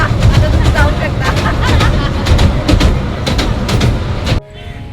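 A small amusement train at a mini sea shore park rumbles with rhythmic clickety-clack wheel beats, loud and close, before the sound cuts off abruptly near the end.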